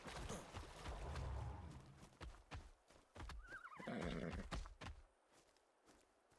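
A horse in ARK Survival Ascended on the Valguero map lets out a loud, wavering whinny that rises and falls, with hoof clip-clops and a few thuds before and after it and no one talking.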